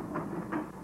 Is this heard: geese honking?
no